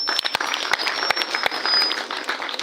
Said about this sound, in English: they deserve a very huge hand clap